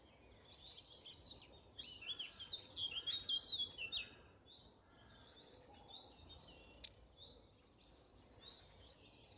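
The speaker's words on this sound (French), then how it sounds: "Surtout le chant des oiseaux." Birds sing and chirp outdoors near hawthorn shrubs, a soft, distant mix of overlapping calls and twitters over quiet background hiss, with no talking.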